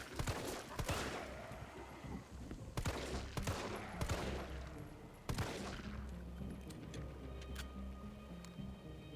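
Gunfire in the Resident Evil 3 (2020 Remake) video game: several sharp shots ring out, spaced a couple of seconds apart, each trailing off in a reverberant decay over a steady low background rumble.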